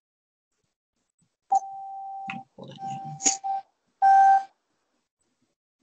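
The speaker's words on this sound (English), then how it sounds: "Well, I hear some beeping there." Electronic beeps sound close and clear in a quiet room: a long steady tone, then a few shorter pulses and a final bright burst, with a brief spoken phrase between them.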